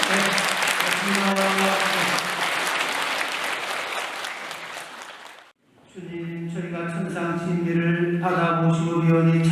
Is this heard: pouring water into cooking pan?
no